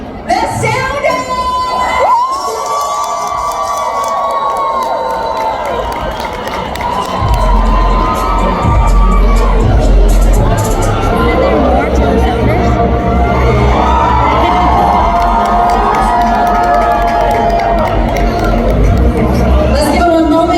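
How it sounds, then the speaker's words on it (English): A crowd cheers, whoops and applauds a band at a Hmong American music celebration, a loud sustained roar of many voices with shouting children, building after a brief quieter opening and continuing to the end. "Keep your applause coming, everyone."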